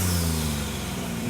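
Pulling tractor Red Fever, tuned for the season and fitted with a new engine, running at a European tractor pulling championship in Brande, Denmark; a steady, loud, deep engine drone holds throughout the short moment.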